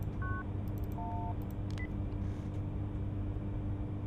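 Phone keypad tones dialing a call in the video game Cry of Fear, a few short beeps near the start over a low steady rumble, with no talking.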